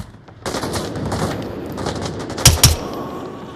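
Pistol shots ring out in a video game, two sharp close reports in quick succession standing out over a steady bed of game noise and ambient rumble.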